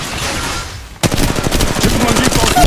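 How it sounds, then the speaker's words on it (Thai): Automatic weapon fire in the mobile game Apex Legends Mobile bursts in loudly after a second of quieter background, a fast string of close, rattling shots continuing to the end. "ฉันกำลังยิงต่อสู้อยู่"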